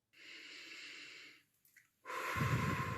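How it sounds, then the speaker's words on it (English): Slow deep breaths in a breathing exercise: a long soft inhale, a pause with small sniffs, then a stronger, louder exhale, close and quiet, with no talking. "take a big breath and relax"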